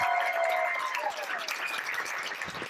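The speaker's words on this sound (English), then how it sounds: "Big applause" Audience applause for hypnosis stage-show volunteers fills the room, a steady dense wash of clapping with cheers, while a voice calls out briefly over the crowd.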